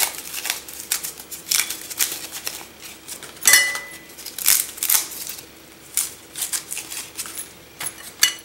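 A knife slices through tomatillos on a cutting board in a kitchen, producing a close series of irregular crisp cutting clicks and scrapes with short pauses between strokes.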